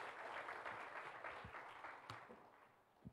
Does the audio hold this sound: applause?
yes